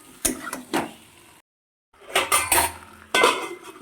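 A metal lid set onto a cooking pan of egg, brinjal and potato curry, giving a few sharp clattering knocks and scrapes, a brief silence, then more metallic clanks close by.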